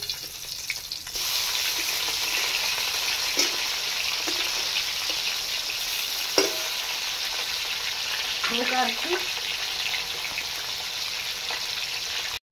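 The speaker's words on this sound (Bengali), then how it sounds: "মাছটা এখন উল্টিয়ে দিই। এক পিঠ হয়ে গেছে।" Rohu fish fries in a pan of oil with a steady, fairly loud sizzle as it is turned over, with a few brief clatters and a short murmur of voice partway through.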